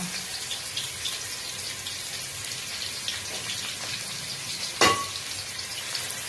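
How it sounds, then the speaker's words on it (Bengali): Onion fries on its own in hot oil before going into a mutton gravy, making a constant, close crackling sizzle like light rain, broken once by a single sharp metallic clink. "পেঁয়াজটাকে আলাদাভাবে ফ্রাই করে নেওয়া হচ্ছে।"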